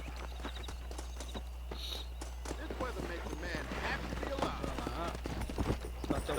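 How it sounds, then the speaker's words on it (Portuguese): Horses running in a race in the video game Red Dead Redemption, with rapid hoof clip-clops thudding steadily under someone talking in Portuguese and game dialogue. "vamos fazer uma corridinha de cavalo"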